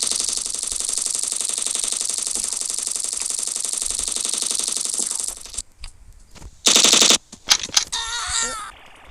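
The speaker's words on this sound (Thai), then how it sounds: "เล่นปืนเลเซอร์เลย ปืนพลังแสงเกิดไหนนี" Rapid laser gun fire in the video game Chicken Gun, a loud, dense buzzing rattle of shots lasting about five seconds, followed by a short sharp burst and scattered game effects.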